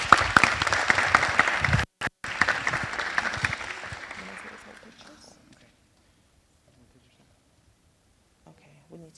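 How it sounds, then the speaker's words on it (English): Audience at a council meeting applauding, a dense burst of clapping with voices mixed in that fades away after a few seconds into near silence, with faint sounds at the end. "Let's give them another round of applause."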